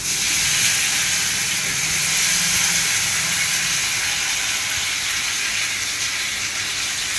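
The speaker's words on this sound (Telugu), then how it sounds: "నూనె అయితే కాగిపోయింది, ముక్కలు వేసేస్తాను." Tomato pieces frying in hot oil for an instant pickle, giving a steady, loud broadband sizzle and hiss that holds evenly throughout with no voices.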